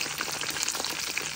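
A floured porkchop seasoned with salt and pepper frying in hot oil, giving a close, steady, dense sizzle with constant crackling pops.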